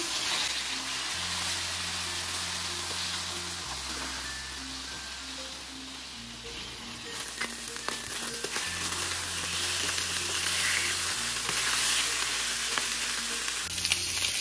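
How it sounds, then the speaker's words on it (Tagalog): Pork chops fry in a pan with a continuous, dense sizzle that swells slightly louder in the second half, heard up close with no voices over it. "Hintayin lang natin mag-brown yung kabilang side tapos baliktarin natin."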